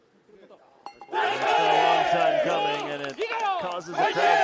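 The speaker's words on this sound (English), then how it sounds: "Causes a crowd pop." Golf gallery at the KLPGA E1 Charity Open erupting into a loud cheer after a birdie putt, with a sudden burst of shouts and whoops that holds strong before briefly dipping and rising again, with speech mixed in.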